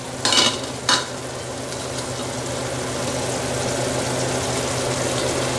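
Green chilies with crushed ginger and garlic hitting hot oil for a spicy egg potato gravy: two sharp bursts as they go in, then a steady close sizzle building under occasional stirring, no speech.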